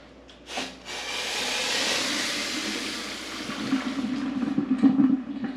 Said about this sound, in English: dump this water out